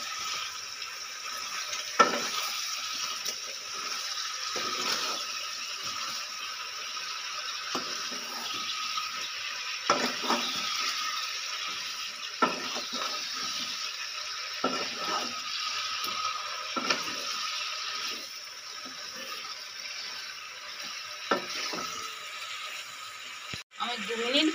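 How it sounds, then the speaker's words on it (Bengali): Chicken masala with cumin powder being stirred in a pan for pepper chicken, giving a steady, close sizzle with scattered scraping and clinking taps throughout. "দিয়ে এটা আমি 2 মিনিট নেড়ে নেব।"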